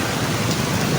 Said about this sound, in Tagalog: Maulang umaga, maulang araw.